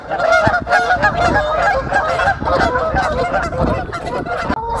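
A flock of geese honks loudly and continuously near an outdoor painting spot on Goose Island, with overlapping calls layered densely throughout.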